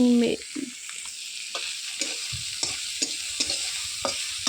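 Sliced onions sizzle in a hot pan with salt added, a steady bright frying hiss broken by soft scraping stirs, heard close with no talking.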